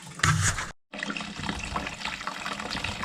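Cider poured in a steady, close stream during keeving, with the brown cap holding solid on top, splashing continuously apart from one brief break where the flow stops and restarts.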